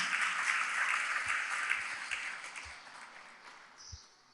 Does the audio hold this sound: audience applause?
yes